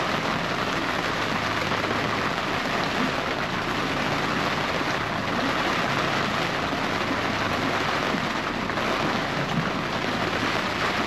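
Heavy rain pouring down during a storm while walleye fishing, a loud dense unbroken hiss drumming steadily throughout.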